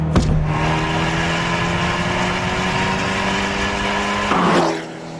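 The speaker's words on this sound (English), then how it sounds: "Abarth have given it something called the Record Monza exhaust system. What it does is make a small car produce a big car noise." An Abarth 124 Spyder with a Record Monza exhaust system holds a steady droning engine note at a constant pitch, then gives a brief rising blip near the end before fading, close and loud with no talk.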